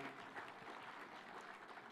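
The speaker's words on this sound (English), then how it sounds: "A better applause for Waziri Mbadi." An audience at a devolution conference closing ceremony at a high school in Homa Bay, Kenya, claps steadily; a faint, even wash of applause continues throughout without any breaks.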